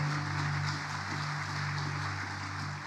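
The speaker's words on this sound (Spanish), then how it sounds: "Fuerte aplauso a Jesús." A church congregation claps steadily and continuously in a brief burst, a dense, even wash of applause with a low hum beneath it and no voices.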